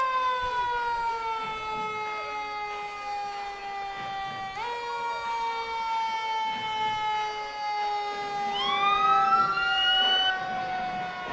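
Fire truck sirens at a Veterans Day parade in Savannah wail continuously, with a second siren sweeping upward partway through, loud and nearby with a low rumble underneath.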